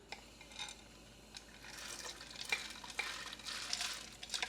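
Rinsed split peas are tipped into a soup pot with ham, making a soft, close pattering and wet rustling that builds into a sloshy stir, with no voices.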